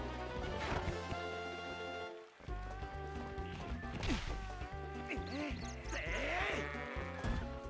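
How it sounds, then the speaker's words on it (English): Loose goat in Zelda: Twilight Princess bleating repeatedly over game music, several short cries near and fairly loud, with thuds of movement between them. "Oh, a goat got loose. It's headed for town."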